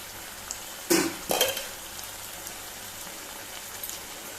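Goan-style ivy gourd bhaji cooks in a covered pan with a faint, quiet sizzle, broken by two sharp clattering bursts of utensil or lid contact early on.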